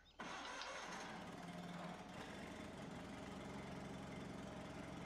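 Lawn mower engine in the Farming Simulator 17 video game catches with a sharp start and settles straight into a steady, close, loud running drone, with no voices.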